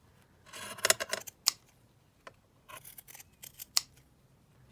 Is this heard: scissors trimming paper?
yes